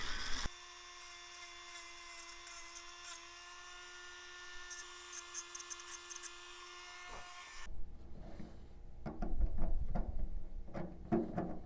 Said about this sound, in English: I will use my roto tool to go ahead and get all the little burrs off of that